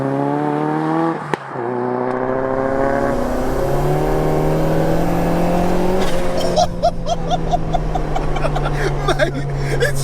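A 2.1-litre stroker Peugeot 205 GTI turbo making 315 bhp accelerates hard on boost from close by, its engine note rising through the gears, with a sharp shift break and rattling pops as it pulls on.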